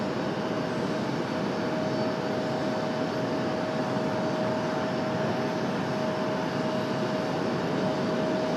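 An Aeromexico Boeing 737 jet taxiing at RDU airport, a constant loud broadband engine roar with a steady high whine held unchanged throughout.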